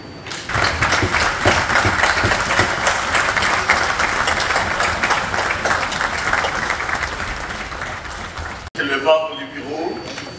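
Loud, sustained applause and cheering from an assembly for standing senators in the DRC, a dense roar of clapping lasting several seconds before cutting off abruptly, followed by quieter murmuring.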